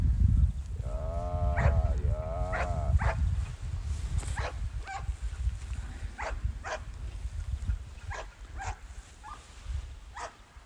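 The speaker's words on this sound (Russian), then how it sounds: "Собака." A working dog barks in short sharp bursts during an outdoor small-item search exercise, several close barks spaced irregularly over faint background noise.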